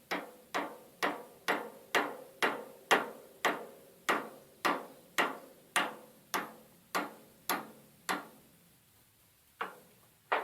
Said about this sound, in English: Make sure you use a flat side hammer instead of a ball peen, and just kind of tap it down.